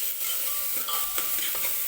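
Masala sautéing in oil for a fresh green chickpea curry, a soft continuous sizzle under a few light stirring scrapes, close and steady with no voices.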